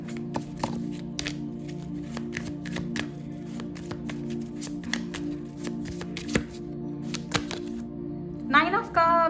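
Tarot cards are shuffled and drawn in a steady run of crisp riffling flicks and slaps over a constant low hum, with a brief rising whistle near the end; no one speaks.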